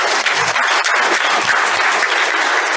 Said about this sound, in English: we're going to give you a rousing round of applause for coming out